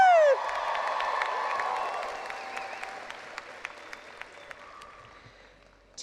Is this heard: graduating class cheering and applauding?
yes